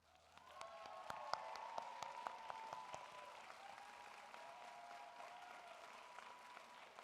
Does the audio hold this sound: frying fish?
no